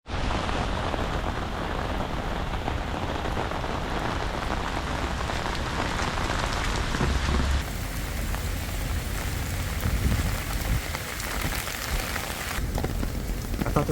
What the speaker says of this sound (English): I actually love the rain, so I don't mind this that much.